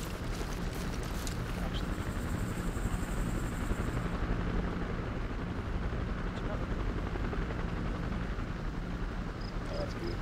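Helicopter rotor drone from the Arma 2 military game, a loud steady whir filling the whole stretch without letup, with voices talking faintly over it.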